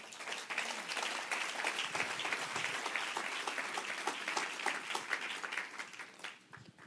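A church audience applauds steadily at a moderate distance during a pastor's service, the clapping fairly soft and even before tapering off near the end.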